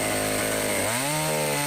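A loud, inexpensive Chinese clone chainsaw roars close by, its engine pitch dropping as the chain bites into wood.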